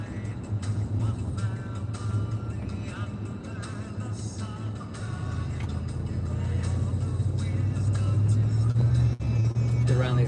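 A car drives around the Walt Disney World property, its steady engine and road noise rumbling loud and close throughout, with people talking over it.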